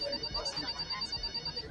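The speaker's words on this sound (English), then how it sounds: "Sir, your phone ringing." A phone rings with a high electronic tone, heard indoors over muffled background voices and movement.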